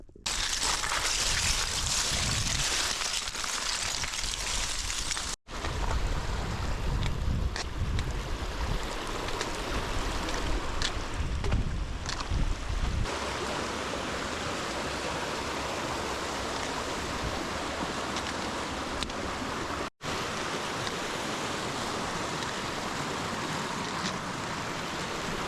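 A rushing mountain creek in remote Clearwater Country roars steadily and loudly up close, a continuous hiss of churning water broken only by a couple of brief cuts, with no voices.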